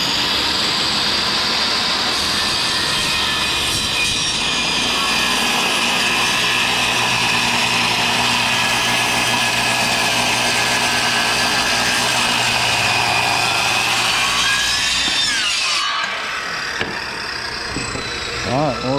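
A power saw runs steadily for about fifteen seconds, cutting a 2x4 held down in a wedge jig, with a loud continuous whine before it spins down and falls away.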